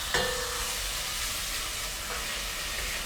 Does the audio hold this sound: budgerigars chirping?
no